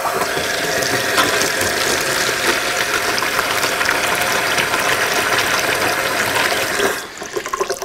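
Well water runs from a tap into a 5-gallon bucket on the floor, a loud continuous gushing splash that cuts off abruptly near the end, leaving a few drips and small clatters.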